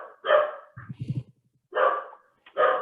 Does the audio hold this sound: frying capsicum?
no